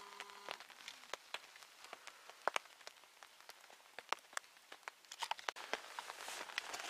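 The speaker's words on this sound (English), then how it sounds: "misty and rainy out on the lake" Rain falling at a misty lakeside campsite in Algonquin Park in October, soft irregular drops pattering on nearby surfaces, fairly faint and steady with no voices.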